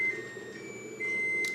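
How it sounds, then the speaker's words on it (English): An oven beeps to signal it has finished preheating in a home kitchen during cake baking, a steady high electronic tone held across the clip over light background hum, with a brief brighter burst near the end. "And that's the oven heated up, guys."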